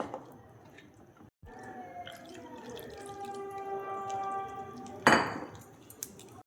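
Milk poured into malpua batter, a thin liquid stream with a rising pitch as the vessel fills, then a clink and wet mixing scrape near the end, close and quiet with no voices.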